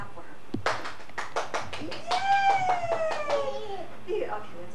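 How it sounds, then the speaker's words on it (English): Hands clap in a quick run of about a dozen sharp claps, close by, while a voice rises in a long squeal over them. "clap for her"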